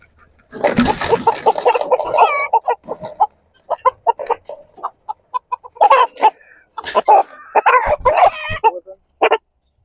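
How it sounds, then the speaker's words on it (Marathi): Large, heavy country rooster at a Marathi hatchery farm selling sixteen chicken breeds, calling out in loud, close bursts with harmonic crowing and clucking, broken by short pauses and scattered nearby fowl sounds. "असा हा रुबाबदार कोंबडा आहे."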